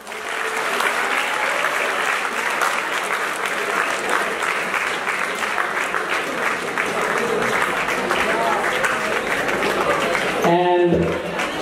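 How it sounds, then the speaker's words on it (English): Sustained audience applause at the end of a school talk, dense rhythmic clapping from a large group of students holding steady for about ten seconds before a voice briefly cuts in at the end. "So will you please give yourself a round of applause?"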